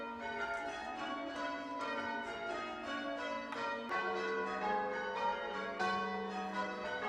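Church tower bells ring in a practice session, overlapping and falling in a steady cascade of bright, sustained tones that is moderately loud and continuous, with no voices.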